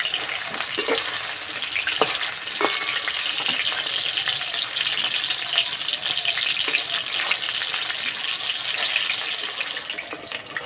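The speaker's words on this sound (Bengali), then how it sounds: "সোয়াবিনগুলো ভাজার জন্য তেল খুব ভালো করে গরম করে নিয়েছি, এবার ভেজে নেব।" Soybean chunks frying in well-heated oil over medium heat, a steady, dense, hissing crackle that runs loud and unbroken throughout, close by, with a few faint clicks scattered through it.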